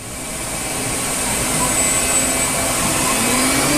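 A Star SR20RIII CNC Swiss lathe spindle ramps from 1,000 to 10,000 RPM, a steady high whine and broadband machine hum that builds slightly in loudness, recorded up close without talk.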